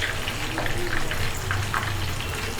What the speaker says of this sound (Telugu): ఇట్లా చికెన్ పీసెస్ టర్న్ చేసుకుంటూ గోల్డెన్ బ్రౌన్ కలర్ వచ్చేంత వరకు ఫ్రై చేసుకోవాలి